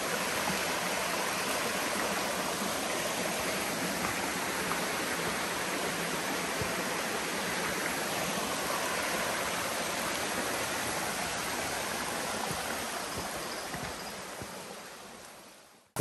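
Water of a forest stream flowing where two streams join, heard on a Kudremukh trek in Karnataka: a steady, full rushing hiss that fades out near the end.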